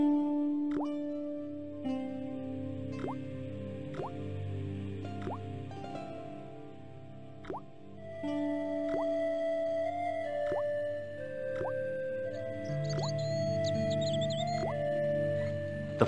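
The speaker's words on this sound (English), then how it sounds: "The slow drip of water barely dampened the towel." Water drips slowly and steadily from a faucet in the Broken Sword video game, each clear plop landing about once a second over soft game music.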